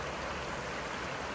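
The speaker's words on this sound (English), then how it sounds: "quite a bit of water flowing through here for it to be a regular current dam" Water pours through a beaver dam on a wooded stream along the Appalachian Trail, a steady, loud broadband rush with no break and no voices.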